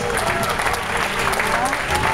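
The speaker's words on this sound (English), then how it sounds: "clap as loud as you can for our volunteers" Audience at a Universal Studios Hollywood special effects stage show clapping for volunteers, a dense, steady burst of applause filling the short stretch, loud and close, with faint crowd voices beneath.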